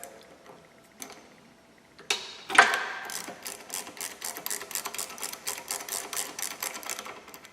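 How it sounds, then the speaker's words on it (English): A ratchet wrench fitted with a 13mm socket clicks quickly and evenly, close by, as it loosens a linkage bolt on a vehicle during a Barton Hybrid 3 shifter install; a few louder knocks come before the steady clicking. "You're going to want to use a 13mm socket or a 1/2 inch socket."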